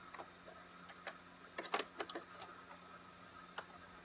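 A home sewing machine stitches fabric for a reusable face mask in short, quiet bursts, run slowly with brief pauses between the ticking stitch runs.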